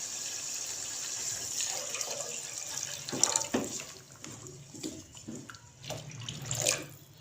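Water runs and splashes steadily into a cooking pot, about 1.5 glasses poured for a daal wadiyan dish, with a few clinks of metal and small shifts in the flow.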